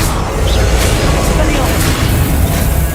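A Confringo fire spell bursts with loud, rumbling booms in a Harry Potter video game, the blasts dense and continuous while an excited voice calls out over the action.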